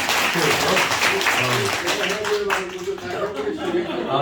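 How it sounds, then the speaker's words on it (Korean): Seminar attendees give a round of applause, uneven clapping from a modest crowd with some chuckles and murmured talk mixed in, moderately close. "그래서 다 같이 박수 한번 부탁드리겠습니다."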